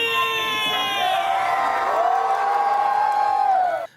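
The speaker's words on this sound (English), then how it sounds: "anytime any character appears in this show, the entire crowd goes absolutely bananas for these One Piece characters" A theme park show crowd cheers and shouts for One Piece characters, with loud, sustained whoops and rising screams from many voices, close and continuous before cutting off abruptly at the end.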